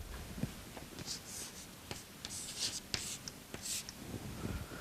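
Writing on a board during a lecture: faint, close scratchy strokes in short bursts of a second or so, with soft taps between them and a low room hiss underneath.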